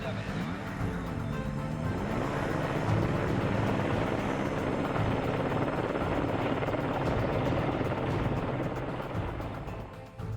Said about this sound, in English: The helicopter's been working this area for well over an hour now.